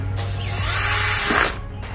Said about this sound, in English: We take our drill.